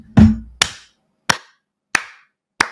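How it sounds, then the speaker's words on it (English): Five sharp, isolated hand claps spaced roughly evenly, each a crisp, loud close slap with a short decay into silence. "Hand clap."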